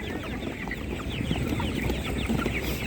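Several chickens cluck and chatter continuously amid a busy, noisy outdoor animal market bustle in Nadvirna, with no clear speech.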